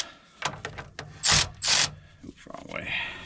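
A hand ratchet tightens bolts on the rack and pinion of a 2001 Dodge Dakota, giving a few short clicking rasps between two longer, louder bursts of ratcheting close by.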